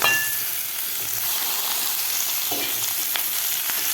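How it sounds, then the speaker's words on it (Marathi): Eggplant pieces sautéed with beans in hot oil for a minute give a steady, close sizzle and crackle across the whole stretch, with light stirring scrapes now and then and no voices. "आता वांगेसुद्धा आपल्याला एक मिनिटभर खालच्या शेंगाबरोबर परतून घ्यायचे आहेत तेलामध्ये"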